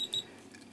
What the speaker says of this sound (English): the multimeter is set to beep, as you can hear